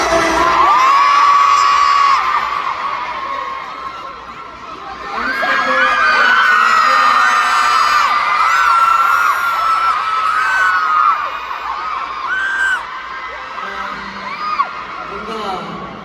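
Fans at a K-pop concert in Cebu scream and cheer loudly in sustained high-pitched waves, with whoops rising over the roar, dipping briefly midway before swelling again and easing toward the end.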